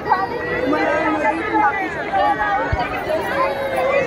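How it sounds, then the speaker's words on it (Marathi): Dense crowd chatter at a Ganesh idol immersion fills the space, many overlapping voices talking at once, loud and close, with a brief thump partway through. "खूप गर्दी आहे, तुम्ही बघत आहात."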